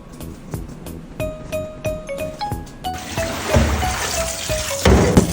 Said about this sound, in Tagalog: Hugasan ko ito kasi ito yung favorite kong gamitin na pan.